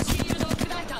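A quick burst of rapid automatic fire from an R9 in a shooter video game, roughly eight sharp, evenly spaced shots over under a second, loud and close, followed by a brief fading tail.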